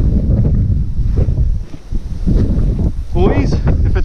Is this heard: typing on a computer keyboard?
no